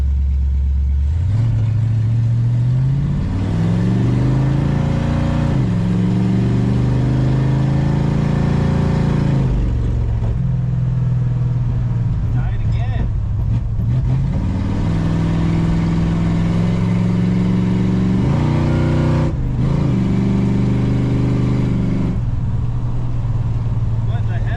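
A 1968 Plymouth Satellite at a drag race roars off the line in a loud, close run, the engine note rising and dropping through several gear changes and then bogging down in third gear.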